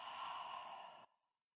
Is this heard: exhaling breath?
yes